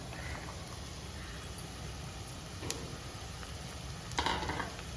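Bitter gourd tossed into hot oil in a Kerala-style pan dish, a steady close sizzle with occasional scrapes and clinks of a spoon stirring against the pan.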